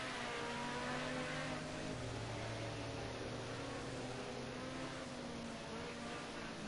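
Engine drone of a Ford Sierra Cosworth race car lapping in a racing video game, a steady, even whine with shifting tonal bands and no voices.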